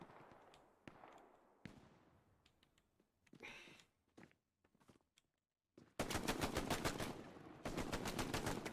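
Full-auto machine gun fire in a team shooter match, with sparse single shots and short bursts early on, then two long, loud sustained bursts of rapid automatic fire near the end.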